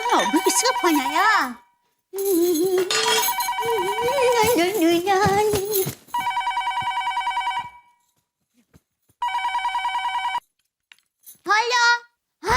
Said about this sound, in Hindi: अभी किसका फोन आया?